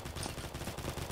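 Rapid bursts of gunfire in the shooter game Combat Master, quick repeated shots in a dense, muffled volley lasting about a second.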